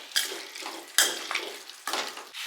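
Pepper chicken with turmeric frying in a pan, stirred in three bursts of scraping and sizzling that start sharply and fade, close and fairly loud with no voices.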